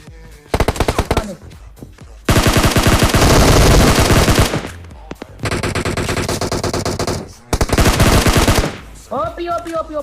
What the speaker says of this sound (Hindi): पीछे तो कुछ फायरिंग शॉट्स हो रहे होते हैं